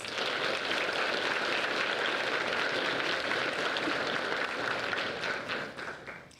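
A large crowd at a high school underclassman awards ceremony gives a sustained, dense wash of applause that holds steady and then tapers off near the end.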